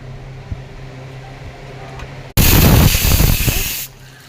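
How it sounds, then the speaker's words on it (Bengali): Cloves and cinnamon dropped into hot oil: a quiet kitchen hum suddenly bursts into a loud, harsh hiss that holds for about a second and a half, then drops away. "ওই তেলে আমি লবঙ্গ, দারচিনি দিয়ে দেবো ফাটিয়ে"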